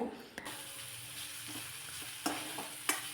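Vegetables with ground pepper sauté in a pan, a quiet steady sizzle punctuated by a few sharp spatula knocks and stirring scrapes against the pan, heard up close.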